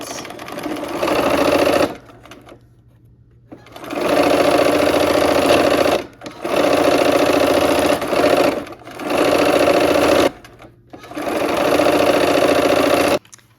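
A sewing machine stitches quilt pieces in loud, steady bursts of rapid running, separated by short pauses and brief stops, each run several seconds long.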